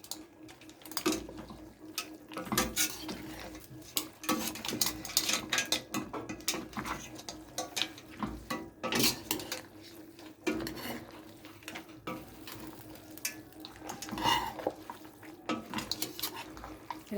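Spaghetti with mussels and sauce is stirred in a pan, making irregular scraping and clinking of a utensil against metal, with wet slaps and soft sloshing throughout.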